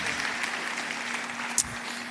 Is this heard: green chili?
no